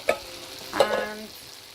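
Kidney beans tumble into a pan, giving two short soft clattering thuds followed by brief stirring scrapes over a quiet background.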